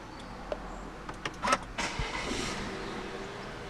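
A 2017 Volvo XC60 T5 is started by push button with a foot on the brake: a few soft clicks, then a short starter whir as the engine catches and settles into a quiet, steady idle close by.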